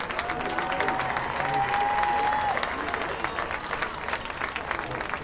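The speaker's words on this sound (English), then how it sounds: "Let's give one more round of applause to our homecoming court" A crowd applauds the homecoming court at a high school football game, a continuous, even spread of clapping in a large outdoor setting, with a brief thin tone sounding over it early on.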